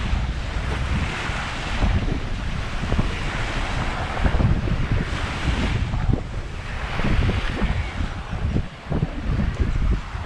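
Strong wind and rough, crashing surf on an overcast beach on Grand Cayman, a dense, steady roar of waves and gusts buffeting the microphone, loud and continuous with no voices.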